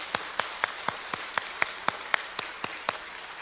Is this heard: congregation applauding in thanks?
yes